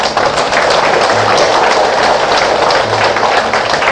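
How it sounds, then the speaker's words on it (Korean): A crowd at an eightieth birthday celebration for a senior citizens' association chairman applauds loudly and continuously, a dense wash of clapping lasting throughout. "큰 박수 한번 주십시오. 박수 한번 주세요."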